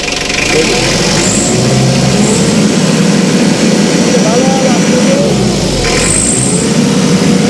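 A forklift engine, just started, runs loud and close with a steady throaty idle, swelling in a couple of revs as the throttle is blipped.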